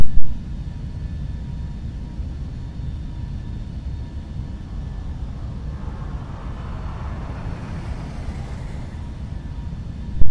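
Beech Premier jet taxiing on the ground in a flight simulator, a steady low engine rumble and whine running continuously at an even level, with brief louder bumps at the start and end.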